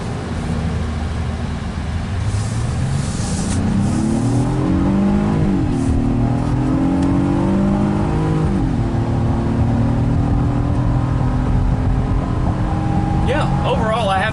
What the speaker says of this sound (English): the acceleration and driving the Passport is a really good experience